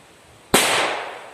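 One sharp, loud bang from a Piromax Nitrox PXP208 firecracker bursts after a quiet moment, followed by a short crackling decay.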